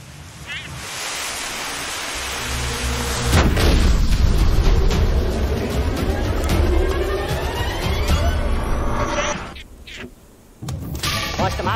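Rumbling blasts in the video game Terraria roar in a long, loud wash with sharp cracks, a brief lull near the end, then another burst.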